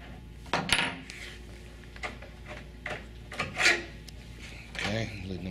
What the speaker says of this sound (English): This bolt has to be removed